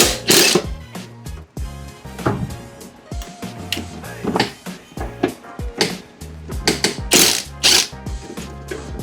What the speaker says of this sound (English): To get the blade off, we're gonna use a 14mm socket.